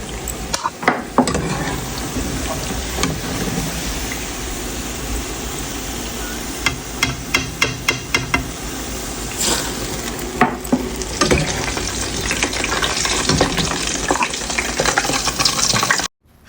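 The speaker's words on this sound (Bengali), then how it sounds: "আমি এগুলো ভেজে নিব, যেগুলো আছে এগুলো ভেজে নিব।" Doi-based chop misti pieces fry in oil, giving a loud, continuous close sizzle punctuated by rhythmic clinks and scrapes of stirring.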